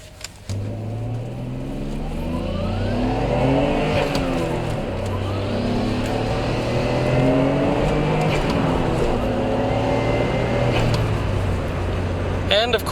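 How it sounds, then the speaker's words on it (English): A Nissan Skyline GT-R R32 engine revs up and down through the rev range in repeated smooth, rising and falling sweeps, loud and close, with a steady drone between pulls. "performance as you would expect out of a GTR, really nice and smooth through the RPM"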